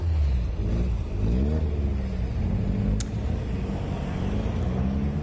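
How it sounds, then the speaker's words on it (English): Caterham race cars pull away from the holding area at Snetterton circuit, a steady loud engine rumble with rising revs and a brief sharp click partway through, with no talking. "The cars now leaving the holding area."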